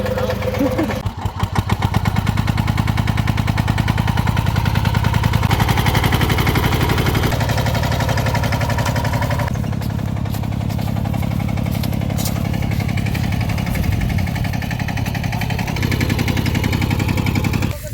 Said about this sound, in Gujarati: મિની ટ્રેક્ટર આવી છે